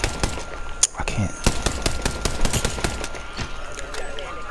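Rapid bursts of automatic gunfire ring out in a first-person shooter video game, a dense string of sharp cracks that continues throughout.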